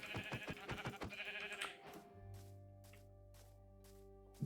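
Sheep bleating in Minecraft, a couple of short nasal bleats at the start, then a steady low ambient hum with faint scattered blips.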